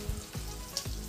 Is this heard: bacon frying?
yes